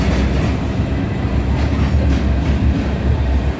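An Alco diesel locomotive train rolls past at night, a loud, steady rumble of wheels and engine with a light rhythmic clatter close by.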